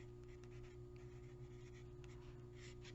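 A pen scratches across card stock in short strokes as a word is written, faint and close, over a constant low electrical hum.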